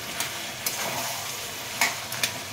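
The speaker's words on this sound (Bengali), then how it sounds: "এবার আমি খুন্তি দিয়ে একটু পিষে দেবো, তরকারিটা করে মাখা মাখা হবে।" Jackfruit curry cooked with a fried catla fish head being pressed and mashed with a metal spatula in a pan, a soft simmering sizzle under a few light scraping taps.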